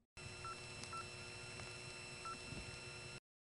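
A different second selector in a Commerce, Georgia area telephone exchange makes a faint steady hum with line noise and a few short tone blips. The sound stops abruptly.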